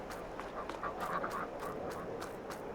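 Ducks in Farming Simulator 22 quack repeatedly in quick, uneven bursts, moderately close over a low steady background hum.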